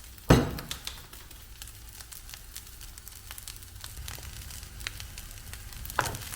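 Egg fried rice with teriyaki sauce fries in a pan, a soft steady sizzle close by with a sharp clink of utensil at the start and another near the end, no talking.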